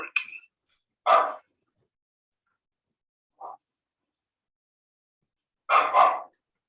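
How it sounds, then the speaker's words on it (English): A small dog lets out a few sharp, isolated barks with long silent gaps between them, fairly close by in an otherwise quiet room. "That's my little dog. Let's wait for her to stop barking."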